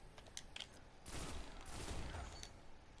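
An Evergreen pulse rifle fires in a Destiny Crucible match, giving quick bursts of rapid shots in a faint game mix. The denser bursts cluster in the middle, with lighter sporadic pops around them.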